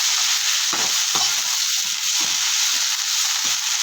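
Handfuls of fresh mint and coriander leaves sizzle loudly in a hot pan for biryani, a bright steady hiss punctuated by a few dull stirring thumps, up close with no voices.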